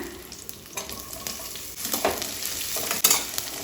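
Sliced onion hits hot ghee with bay leaves and mint, a loud, dense frying hiss swelling as it is stirred, with brief spatula clacks scattered through it.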